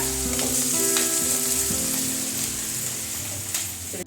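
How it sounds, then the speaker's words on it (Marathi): Chopped onions fry in hot oil for kanda poha, a loud, continuous sizzle with stirring that runs throughout, close up and with no talking. "आणि थोडेसे हलवून घेऊ आणि नंतर तेलात चांगले परतून घेऊ"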